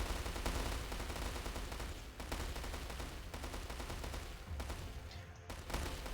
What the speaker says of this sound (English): I took some bombardiers, started bombarding his coastline a little bit